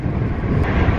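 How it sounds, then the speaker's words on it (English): Heavy wind buffets the microphone with a constant low roar and rumble for a brief moment, no voices present. "It is so bloody windy today."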